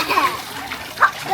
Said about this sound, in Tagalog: yung mga bata naliligo din dito